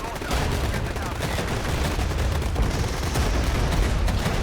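Grad rocket artillery firing in the strategy game Regiments, a dense, continuous rumble of overlapping launches and blasts that stays loud and unbroken throughout.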